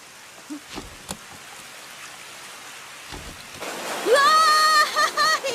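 Rain falls in a Doraemon cartoon as a soft steady hiss, starting quiet and swelling louder midway, with a cartoon voice speaking over the downpour.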